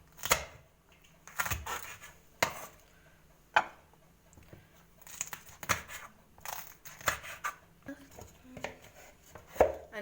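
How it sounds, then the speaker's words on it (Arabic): A knife chops peppers on a cutting board for homemade pickles, making irregular sharp close knocks, sometimes in quick bursts, with short pauses between cuts and no talking. "هقطع الفلفل"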